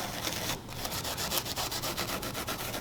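Steady back-and-forth abrasive scuffing on the soft vinyl bar pad of a Sea-Doo jet ski, roughing the surface before paint; a continuous close rhythmic rubbing with repeated strokes and no talk.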